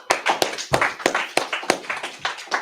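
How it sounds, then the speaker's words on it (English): A small group clapping at a Purim feast closing gathering, sharp, distinct claps in a loose, fairly regular rhythm, close and clear with no other sound. "Let's clap it up."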